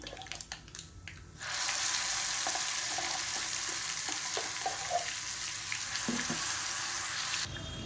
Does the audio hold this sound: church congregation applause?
no